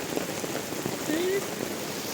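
Steady rain pattering at a campsite during the rainy season, a dense even hiss of drops on surfaces close by, with a brief voice-like sound partway through.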